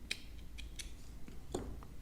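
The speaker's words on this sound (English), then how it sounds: "get my pair of scissors and cut off this yarn" Scissors snip green crochet yarn in a few quiet, sharp clicks close by, with light handling noise and no talk.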